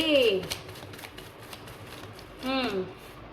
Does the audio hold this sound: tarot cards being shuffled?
yes